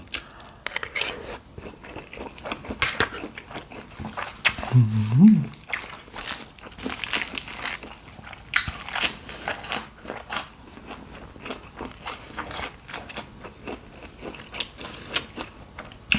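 Spicy chicken feet salad is bitten and chewed up close, with wet crunching and crackling in irregular bursts throughout and a brief low hum partway through.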